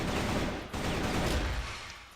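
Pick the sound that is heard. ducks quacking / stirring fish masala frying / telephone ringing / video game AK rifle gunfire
video game AK rifle gunfire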